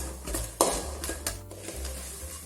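Cashews fry in a pan with a soft sizzle while a spoon clanks and scrapes against the metal, including one sharp knock, close and uneven.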